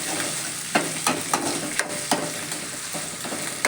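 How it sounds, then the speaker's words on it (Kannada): Oil sizzling steadily in a pan as ingredients for mushroom biryani are lightly fried, with a spoon scraping and stirring in regular strokes about every half second. "ಒಂದು ಸ್ವಲ್ಪ ಆಯಿಲಲ್ಲಿ ನಾವು ಈ ಥರ ಲೈಟಾಗಿ ಫ್ರೈ ಮಾಡ್ಕೋಬೇಕು."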